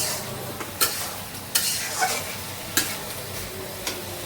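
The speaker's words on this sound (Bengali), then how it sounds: "মুরগিটা ভাজা হয়ে গেছে" Chicken frying in a pan with a steady sizzle, broken by several sharp scrapes and clacks of a spatula stirring the pieces; close and moderately loud, no talking.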